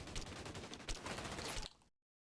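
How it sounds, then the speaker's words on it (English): Marksman rifle fire in the online shooter XDefiant: dense, loud rattling bursts of gunfire and impacts that fill the moment, then cut off abruptly into silence, with no voices. "I feel like this marksman rifle is pretty horrible because you can't get it off in time"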